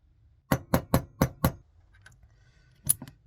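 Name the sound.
hammering gun sights onto a rifle slide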